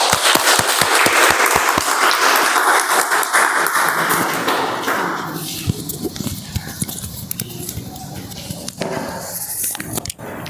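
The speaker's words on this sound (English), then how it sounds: "So let's give her a round of applause for her effort." A meeting audience applauds a poet with loud, dense clapping and a few sharp individual claps up front, then the applause thins into scattered claps and fades over the remaining seconds.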